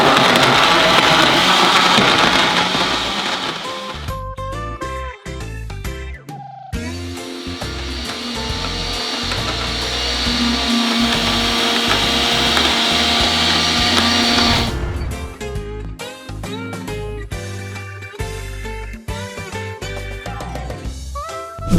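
A kitchen blender runs loudly for long stretches with a harsh motor roar, shifting in pitch as it chops the contents and stopping and restarting several times, with no one talking.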